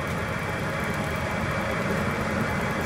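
Wood lathe spinning a river birch vessel at about 600 RPM, a steady continuous motor drone with a low rumble and constant hum throughout, no pauses or cutting bursts standing out.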